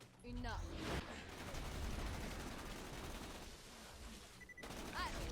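Sustained rapid gunfire in Borderlands 2, a dense burst of automatic shots blending into a continuous rattle with electronic game tones at the start and end, fairly quiet overall.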